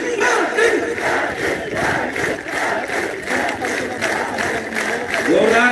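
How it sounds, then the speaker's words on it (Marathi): Large political rally crowd in Beed cheering and clapping steadily, a loud dense roar of many voices and hands sustained throughout, swelling again near the end. "प्रचंड टाळ्या वाजवा"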